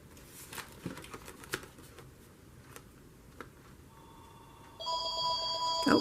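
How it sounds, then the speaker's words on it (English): A telephone rings in a quiet room, its bright electronic ring starting near the end and sounding clearly above faint scattered ticks and rustles. "Oh, why does the phone ring every day at this time?"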